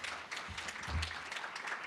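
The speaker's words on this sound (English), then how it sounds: "One more round of applause for that lovely talk." An audience claps after a keynote talk at a college STEM event, a brief, faint patter of applause in a hall with no one speaking over it.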